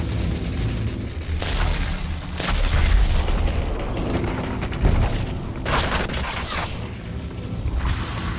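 A grenade goes off in the Population One VR shooter game: loud, rumbling booms and bursts, with a second blast-like swell later amid continuous game noise.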